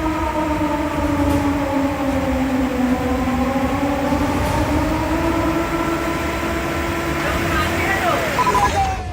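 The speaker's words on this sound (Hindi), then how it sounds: "सायरन की आवाज के साथ ये चेतावनी साफ साफ सुन लीजिए।" A flood warning siren wails in long rising and falling tones over a dense background roar. It stays loud and continuous throughout, and its pitch sweeps and bends near the end.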